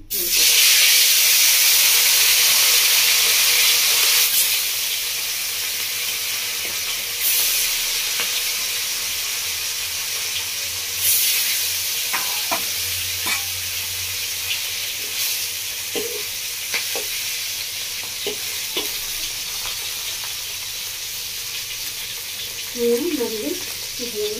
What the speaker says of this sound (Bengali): তেল থেকে দেখুন আঁচ উঠে গেছে। তো এবার আমি দিয়েছি মাছগুলো।